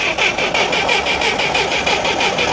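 Soviet UAZ off-road vehicle engine cranking and trying to start, a steady rhythmic churning with a pulsing whir that continues for the whole stretch with no clear catch, close and loud.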